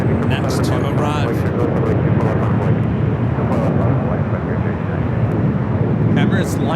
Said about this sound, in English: Emirates lined up for final approach.